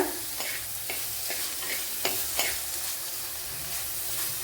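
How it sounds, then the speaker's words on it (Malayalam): Crushed shallots sauté in a pan for a Kerala dry mackerel curry, a steady bright sizzle with a few soft scraping stirs, close and continuous with no talking. "ഇത്രയൊന്നും നല്ലപോലെ ഒന്ന് വഴറ്റിയെടുക്കണം."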